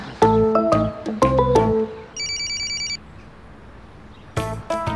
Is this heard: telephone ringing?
yes